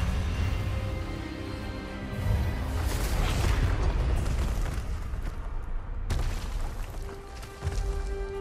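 A disarming spell bursts out in Hogwarts Legacy, a loud booming magical blast that swells over a sustained rumble, with a sharp crack near the middle and a renewed surge at the end.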